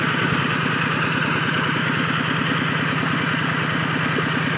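A two-wheel walking tractor engine idles steadily up close, a loud, even rapid chugging thump with mechanical rattle and no talking over it.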